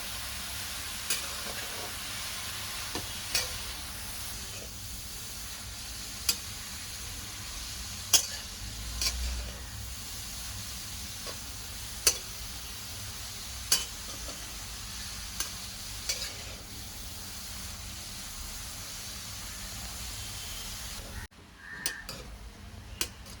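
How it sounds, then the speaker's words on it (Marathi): Grated carrots sautéed and stirred in a pan over a low flame for gajar halwa, a soft steady sizzle under scattered stirring clicks and spoon taps, close and moderately quiet, with no voices. "मंद गॅसवर चांगलं परतून घ्यायचं गाजर दहा पंधरा मिनटं"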